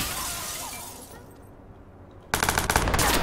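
Gunfire in the Watch Dogs video game: after a quieter stretch, a rapid burst of sharp shots rings out close and loud, mixed with shattering glass.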